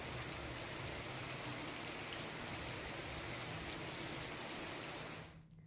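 Heavy rain pours onto flooded streets in the Bassi area of Chittorgarh, a dense, steady hiss that stays loud and close before falling off sharply at the very end.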